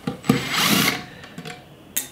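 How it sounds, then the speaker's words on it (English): A power drill whirs in short bursts, loud and close, with brief pauses between runs as screws are backed out of a 600-watt Aims inverter casing. "Drill."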